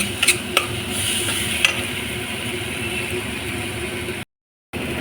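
Raw jackfruit curry is being sautéed in oil with spices and stirred, giving a steady close sizzle with a few sharp scrapes early on and a short dropout near the end.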